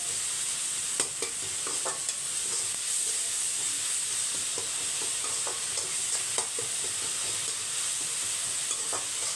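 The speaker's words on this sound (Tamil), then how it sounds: "வெங்காயம் வதங்கட்டும்." Onions sautéing in a pan for a sardine and raw mango fish curry, a steady close sizzle with frequent scraping stir clicks scattered throughout and no talking.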